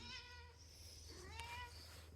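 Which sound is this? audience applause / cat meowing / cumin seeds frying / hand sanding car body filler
cat meowing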